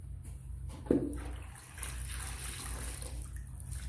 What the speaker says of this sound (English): make sure you rinse your strip washer out so that there's no dirt or anything in it